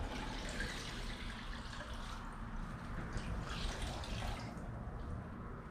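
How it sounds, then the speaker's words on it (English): Water drips and trickles as wet car wash towels are wrung out, a faint, steady splashing and patter up close with no speech. "Now what you want to do is you want to wring these towels out"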